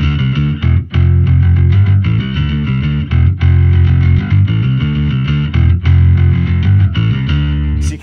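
A bass guitar runs through a Pog octave pedal and a mild distortion crunch, playing a steady, busy riff, loud and up close with a bright octave shimmer on top.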